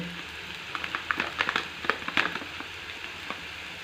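Onion, tomato, turmeric and garam masala fry in a pan, giving a soft, close crackling sizzle with scattered pops and stirring sounds.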